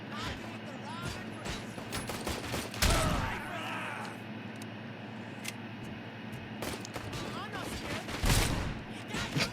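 Gunfire in the video game Robocop: Rogue City lands as scattered sharp shots and heavier blasts mixed with mechanical clicks. Someone talks throughout, mostly under the louder reports.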